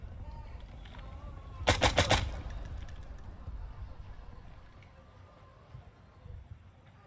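Gunfire in the video game Insurgency Sandstorm: a loud, rapid automatic burst of about four shots near the start, then fading battlefield ambience with faint distant pops.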